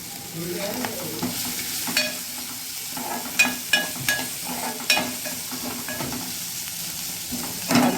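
Chopped onion frying in a pan with a little turmeric for a cabbage dish, a continuous bright sizzle broken by repeated clinks and scrapes of a stirring spoon.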